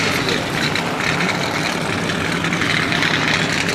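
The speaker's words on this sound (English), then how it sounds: "Darrell Waltrip firing his own engine and then the rest of the field" Stock car race engines fire and idle together across a field of cars, a dense, continuous rough roar with no break.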